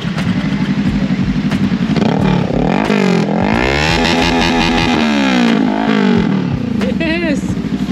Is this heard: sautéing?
no